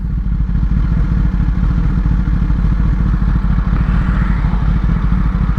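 A Mahindra Thar in full power mode accelerates hard, its engine a loud, steady close-up drone with a rapid pulsing throb that holds strong and unbroken throughout, with no voices.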